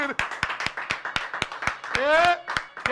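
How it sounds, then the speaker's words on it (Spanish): A studio audience on a numerology TV program claps in a steady, rhythmic beat of sharp, close slaps while a voice talks over it. "Pueden aplaudir que hay dinero."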